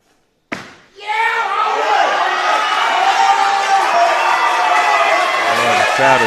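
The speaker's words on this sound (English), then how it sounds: "Crowd is going absolutely nuts for that one." After a sharp slam of a dropped barbell, a weightlifting championship crowd erupts into sustained loud cheering and whooping that keeps going strong to the end.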